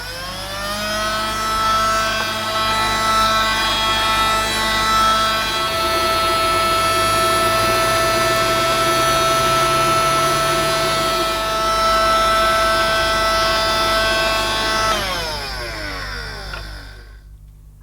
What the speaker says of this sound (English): I will take off the main nozzle and try and remove all the bits just using the wand.